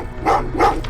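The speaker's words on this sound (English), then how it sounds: "Well, what's with the dogs?" Two quick barks from a dog in the video game Terminator Resistance, followed by a brief softer yip, close and clear with no talk.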